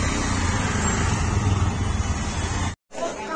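Road traffic rumbles along a busy market street, a steady close engine and road noise with a brief drop-out near the end, while someone talks over it.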